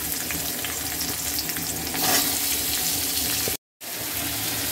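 Nigella seeds, green chili and onion fry in a pan, giving a steady, close broadband sizzle with a louder burst near the middle and a brief cut to silence near the end.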